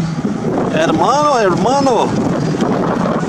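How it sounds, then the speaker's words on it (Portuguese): Wind buffets the microphone of a Nikon Coolpix P900 camera with a low, rough rush while someone speaks over it. "Tá ventando um pouquinho aqui"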